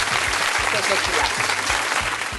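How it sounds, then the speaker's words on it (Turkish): Audience applause on a Turkish village cooking show, a thick wash of clapping with a voice speaking briefly over it, holding steady and fairly loud throughout. "Güzel bir alkış alalım."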